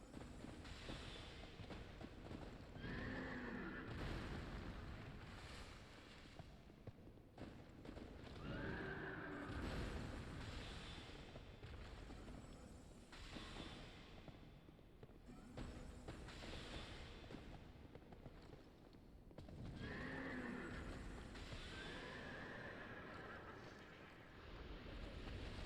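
A horse in the video game Dark Souls 2: Scholar of the First Sin gives several loud, drawn-out neighs and whinnies over a constant windy, surf-like ambient background.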